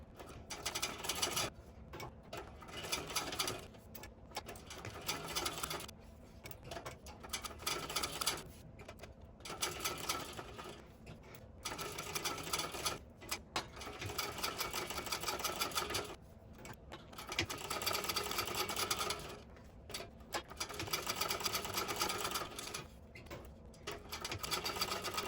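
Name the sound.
sewing machine chain stitching a bag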